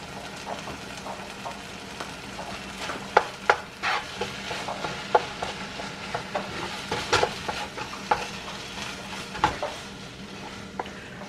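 Beef patty filling is stirred in a pot with salted butter added, giving a low sizzle throughout. A spoon scrapes and knocks against the pot repeatedly at close range, and there is no talking.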